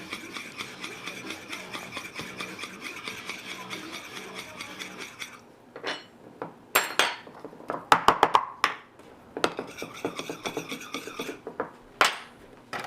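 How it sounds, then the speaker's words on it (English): A spoon scrapes and rasps rhythmically against a pot of peach mixture for cobbler, steady strokes, then a few louder clanks and knocks before the scraping resumes. "Stir it well."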